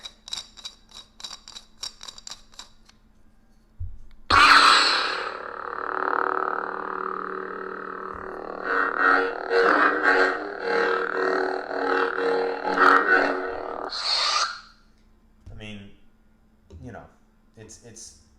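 A lightsaber sound font through a 28mm speaker ignites with a sharp burst, then hums steadily with swelling swings and wavering tones before switching off, followed by a few faint clicks.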